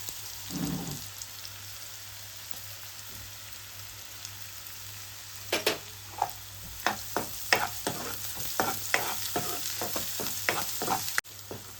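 Ginger garlic paste sizzles in a pan with fried onion, a soft steady frying hiss that gains a run of sharp scraping stirs about halfway through, each spoon stroke clearly audible and close.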